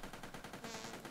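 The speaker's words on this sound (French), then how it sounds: "Vous avez vu la mitrailleuse Gatling?" A Gatling machine gun fires in a video game, a fast, steady stream of rattling shots, fairly quiet and unbroken for about a second.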